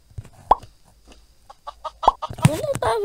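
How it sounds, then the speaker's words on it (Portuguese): A chicken in the Mini World video game gives a few short clucking calls amid game sound effects, with a burst of louder game noise toward the end. "Sai, galinha."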